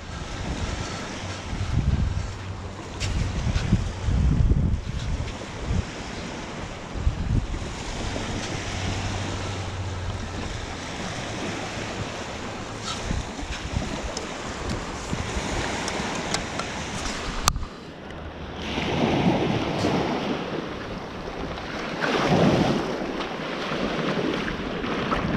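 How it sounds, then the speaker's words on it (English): Steady outdoor wind roaring across the microphone, with occasional stronger gusts swelling and fading over a constant rushing background near water. "Not very much wind. It gets a gust every now and then."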